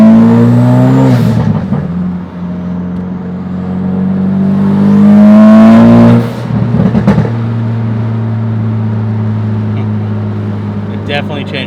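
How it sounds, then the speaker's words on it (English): A 2017 Ford Focus RS engine revving up and easing off twice, with a whooshing release after each rev. The engine hums loud and close throughout, and a voice talks over part of it. "The other thing to listen for is the blow-off valve."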